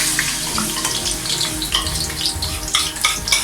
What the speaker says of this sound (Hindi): अब हमने इसको अच्छी तरह इसमें डाल के और चम्मच चलाते रहेंगे, इसको भूनते रहेंगे इस तरह।